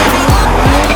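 A drift car at the Waimate 50 Festival of Motorsport, a street event in a closed-off town, howls loudly at close range while its tires squeal in sustained bursts, with the engine revving hard throughout.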